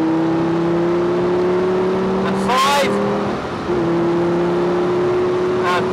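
A Lamborghini accelerating at full power on a race track, a steady engine drone with a brief higher whine from another car passing, heard from inside under an instructor's coaching voice.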